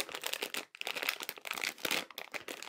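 Packaging around a magnetic sewing seam guide being unwrapped, with close, continuous crinkling and rustling of plastic and paper in quick bursts.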